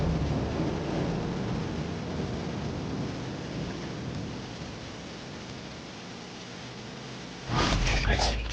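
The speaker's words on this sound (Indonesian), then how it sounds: "Ini udah malam dan hujan deras." Heavy rain pouring down at night in a steady dense hiss with a low rumble beneath, continuous throughout, ending in a louder gust or rumble near the close.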